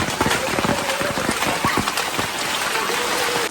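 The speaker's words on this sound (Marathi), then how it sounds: "पाऊस बघा कंटिन्युअसली चालूच आहे हा सर्व पाणी खाली जातो आहे" Monsoon rain pours steadily over a foggy Konkan village, with a dense, close patter and occasional heavier drops falling through the whole stretch, without any talking.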